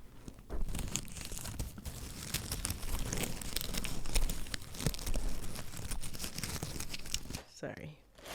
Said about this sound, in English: Let's get some ASMR from the eucalyptus.